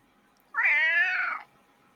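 One loud, close cat meow lasting nearly a second, rich and harmonic with a steady sustained pitch, standing alone against near silence before and after.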